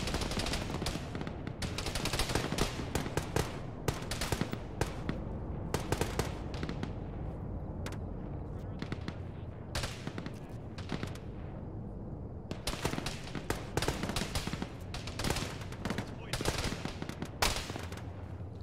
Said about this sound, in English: Jesus, stop shooting at me.